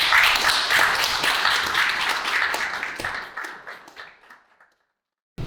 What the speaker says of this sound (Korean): 큰 박수로 맞아주시면 감사드리겠습니다